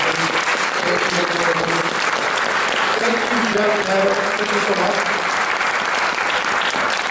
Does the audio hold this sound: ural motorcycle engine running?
no